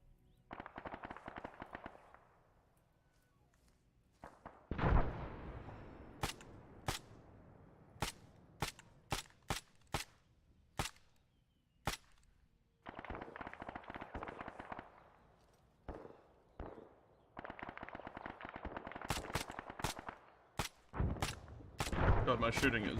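Gunfire in the military video game Arma 3 during a push under indirect fire: many sharp single shots and short bursts cracking in irregular clusters, some loud and close, others softer, with rumbling between.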